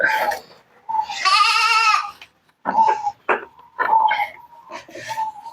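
A goat bleats loudly and repeatedly while being held for treatment, with harsh wavering cries close by, separated by short pauses and mixed with a person speaking and handling noises.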